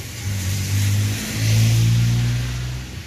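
A Kawasaki XD3 motorcycle engine fitted to a sidecar trike revs twice in a row at close range, a throaty drone that rises and falls with no speech over it.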